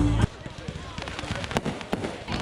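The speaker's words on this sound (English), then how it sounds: "And without a warning, we have fireworks." New Year's midnight fireworks heard from a sailboat near Biscayne Bay, Florida: scattered sharp pops and crackles over a busy background of crowd noise and distant band music, with a loud burst at the start.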